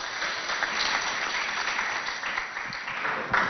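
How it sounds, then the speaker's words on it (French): A crowd at a school dance competition in Abéché breaks into loud, sustained applause, a dense wash of clapping that holds steady throughout. "on applaudit très fort pour tous les candidats qui sont passés ici"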